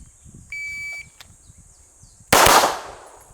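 On a pistol practice range, a shot timer gives a thin steady electronic beep, and about a second and a half later a single loud, sharp pistol shot cracks out and rings off into a decaying echo.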